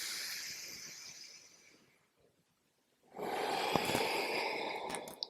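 Audible breathing during a yoga flow: a long, close breathy exhale, then a quiet pause, then another strong, airy breath swelling in.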